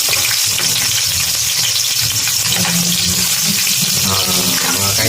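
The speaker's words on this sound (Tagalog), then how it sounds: "Mainit na yung mantika. Kaya ilagay na natin to yung mga bawang, sibuyas," Garlic, onion and ginger hitting hot cooking oil, a loud, constant crackling sizzle with bubbling texture throughout, close and alone.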